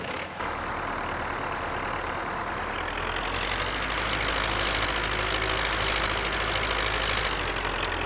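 A self-propelled mower drives in Farming Simulator 19, its engine humming steadily with a deep, constant drone that swells slightly as it moves, no voices over it.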